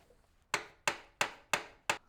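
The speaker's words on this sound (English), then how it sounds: "Let me try the hammer again." Five sharp metallic hammer blows strike the handle of a Nam Sun 1540 engine lathe, evenly spaced about a third of a second apart. Each hit is loud and close, with a short ringing decay, and there is no talk.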